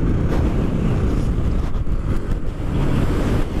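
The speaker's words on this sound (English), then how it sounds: "That wind is just blowing me sideways, man." Strong desert wind buffeting the microphone outdoors, a loud, steady roaring rush with gusty low-frequency rumble and no talk.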